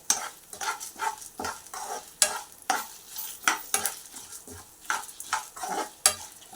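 Dried red chillies fry in a pan for fenugreek leaf chutney, with a soft sizzle under repeated, rhythmic stirring scrapes that sound close by.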